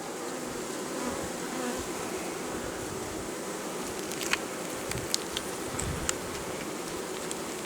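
A dense, steady drone of many honeybees buzzing around hives, constant and close, with a few sharp clicks and taps scattered through it.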